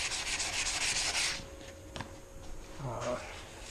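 Wet sanding on the body panels of a 1976 Corvette, a close, steady rubbing stroke that fades into quieter scuffs, with a brief tap and some low background noise.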